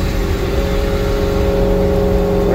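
A carbureted car engine runs on fresh fuel while climbing a hill, holding a loud, steady strained drone with a slight rise in pitch toward the end.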